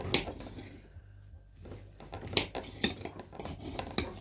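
A knife slices through a meat roll on a plate or board, producing quiet clinks and scrapes of metal against dishware in scattered taps, close by in a calm kitchen.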